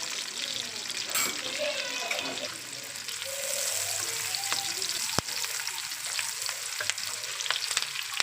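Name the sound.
chicken jalfrezi frying on high flame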